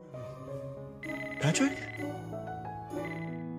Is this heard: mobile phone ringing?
yes